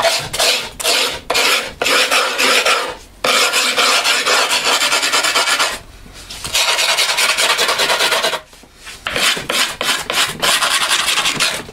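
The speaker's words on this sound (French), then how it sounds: "Ensuite je vais marquer le contour du skateboard avec la lime fine." A fine file rasps back and forth along the edge of a skateboard deck, loud and close, in repeated strokes with short pauses between bursts of scraping.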